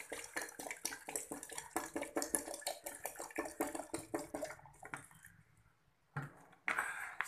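Water poured back into a kettle during a vacuum science experiment: a quick run of splashing, gurgling pulses close by, then a brief lull before a final splash, with no talk.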